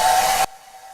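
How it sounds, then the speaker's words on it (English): A blow dryer drying paint gives a loud, close, steady rushing roar that cuts off abruptly partway through, leaving a faint hum and quiet room tone. "so you don't get drowned out by the blow dryer here"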